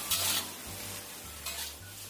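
Mustard greens and tomatoes stir-fry in a pan with a steady low sizzle, broken by two short bursts of scraping and stirring near the start and middle.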